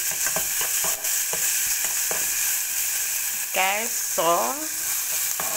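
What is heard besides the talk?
onions and pepper frying in olive oil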